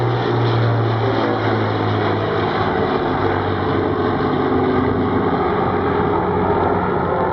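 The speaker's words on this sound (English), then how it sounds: "We call her the Minarsky Memorial Lancaster in honor of a Canadian Victoria Cross winner" An Avro Lancaster bomber's piston engines driving propellers, a loud, steady, throbbing drone that holds constant for the whole stretch with no talk over it.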